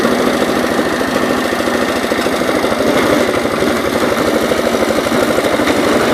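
An Ingersoll 222 garden tractor engine running loud and close, a steady rapid thumping idle with a rough knocking texture throughout, no talking.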